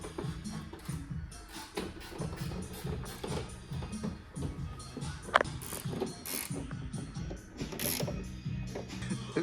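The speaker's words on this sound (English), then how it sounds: "Ratcheted spanner." A ratcheting spanner turns bolts on a Cusco rollcage inside a Mazda MX-5 drift car, giving a close, rapid clicking with metallic knocks and creaks in uneven bursts.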